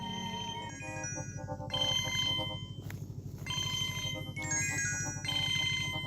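Phone ringtone playing in a Bundeli home drama, a steady melodic electronic tune repeating for several seconds over a low background hum, with no talk.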